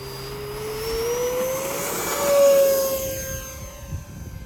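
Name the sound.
RC jet plane engine during takeoff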